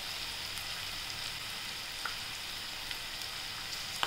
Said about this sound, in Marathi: आता आपण हे छान परतून घेऊ